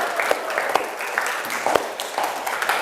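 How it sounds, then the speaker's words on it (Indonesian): Students clapping together at the close of a biology lesson in a classroom, a few seconds of scattered, uneven applause with individual claps standing out, no voices. "Kita berikan aplaus untuk kita semua"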